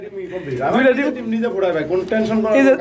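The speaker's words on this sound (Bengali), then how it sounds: "এটা মাদি কবুতর" Pigeons in a loft coo in soft, rising and falling throaty calls, close and repeated, with someone talking over them.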